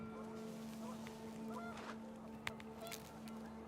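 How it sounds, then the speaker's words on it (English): Panicked geese honking in the video game What Remains of Edith Finch, several hoarse honks over a steady low hum and wind, moderately faint, with a sharp click partway through. "The wind picked up, and panicked geese appeared and quickly went."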